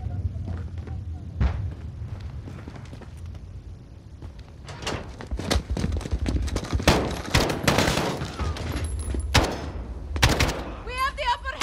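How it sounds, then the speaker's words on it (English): Rapid bursts of gunfire from a Call of Duty Modern Warfare firefight, sparse single shots at first, then dense overlapping volleys and loud cracks mixed with occasional voices. "Point and shoot until they fall."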